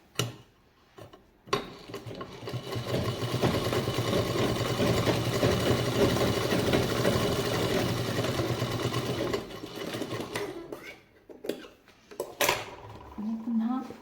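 A sewing machine stitches fabric for a double-zip purse, running in a steady fast whirring rattle for several seconds between short stops and handling noises, with a voice speaking briefly.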